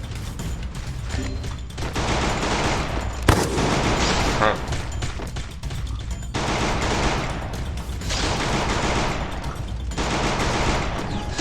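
Automatic weapons fire in the mobile shooter Free Fire during a 4v4 ranked match, in repeated dense bursts of rapid gunfire separated by short pauses. A single sharp crack stands out early on, and a voice talks between the volleys.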